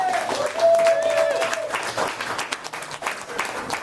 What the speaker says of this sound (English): we ask that everybody stand up and give a standing ovation at the start for the speaker